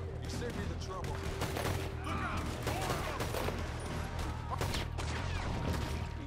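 Semi-automatic pistol fire in Red Dead Redemption 2, a rapid run of sharp shots and clattering impacts repeating throughout amid a busy firefight.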